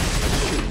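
A gunshot from the survival-horror game Resident Evil 4, a loud dense blast filling the brief moment without any talking.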